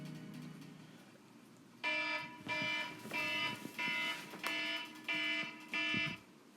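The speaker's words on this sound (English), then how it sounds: "Sorry about that. That's the alarm." An electronic alarm goes off indoors in loud repeating beeps, about six evenly spaced harsh bursts following a brief moment of quieter background, with no talking over it.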